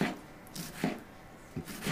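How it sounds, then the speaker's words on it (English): A knife chops fresh garden tomatoes for homemade salsa, giving a few soft, separate cutting thuds spaced out over a quiet background. "we're going to begin by chopping up those tomatoes"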